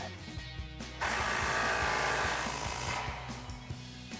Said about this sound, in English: Now we'll tighten down our rear bolt.